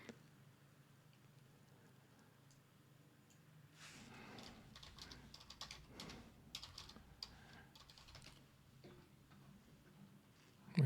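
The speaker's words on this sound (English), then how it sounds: "this mouse is also very loud with the clicking" A loud computer mouse clicks repeatedly during a Star Trek Fleet Command gaming session, irregular sharp clicks in bursts, close to the microphone, with no talking.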